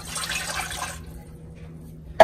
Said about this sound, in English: So now we're gonna pour in the broth.